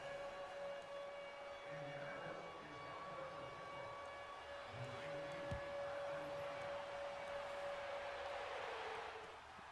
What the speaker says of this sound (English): I just hate that siren